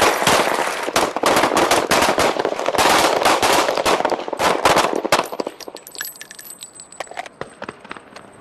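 Rapid volleys of gunfire crack at a law enforcement shooting range, San Diego Sheriff's deputies firing many overlapping shots for about five seconds before the barrage thins to a few scattered reports and faint metallic clinks.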